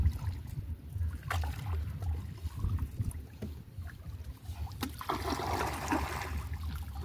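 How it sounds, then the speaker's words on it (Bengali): Water sloshes and trickles steadily as a small rowboat moves along in Kanaiya village, Gazipur, with a low rumble underneath and a few splashes from paddling. "নৌকা চালিয়ে চলে যাব বহুদূর।"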